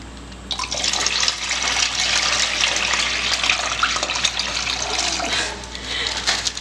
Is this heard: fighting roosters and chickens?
no